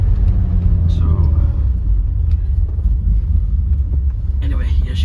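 A BMW E30 fitted with a 333i engine and an electric radiator fan idles close by, a steady low rumble filling the whole stretch, with brief faint higher noises and a short burst of voices near the end.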